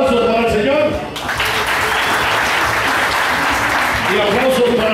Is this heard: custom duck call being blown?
no